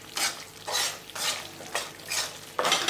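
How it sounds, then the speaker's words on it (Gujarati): Bajra (millet) flour is stirred and roasted in a pan over slow to medium gas heat, six distinct scraping, rustling strokes at an even rhythm, close and fairly soft, with no talking. "4 થી 5 મિનિટ સુધી આપણે આવી રીતે હલાવતા જશું અને લોટને શેકતા જશું"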